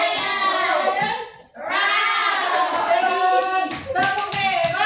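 A classroom of children performs a 'tepuk hebat' clapping cheer, chanting loudly in unison with sharp hand claps mixed into the chant and a brief pause midway.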